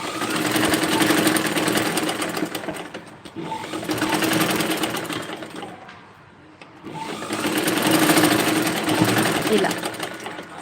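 A sewing machine stitches a dress in bursts of steady whirring, pausing briefly near the middle before running again, loud and close.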